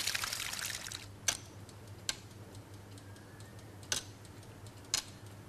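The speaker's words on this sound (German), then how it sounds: "So ein, ja, ein Tick-Tack." Mechanical wheel clock ticking faintly in a quiet room, a few sparse sharp ticks spaced about a second or more apart over a low steady hum.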